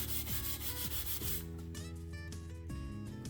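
Coarse steel wool rubbing rust off chrome, a steady close scratchy scrubbing that continues without pause.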